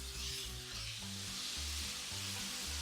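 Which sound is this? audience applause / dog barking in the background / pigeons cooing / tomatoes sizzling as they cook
tomatoes sizzling as they cook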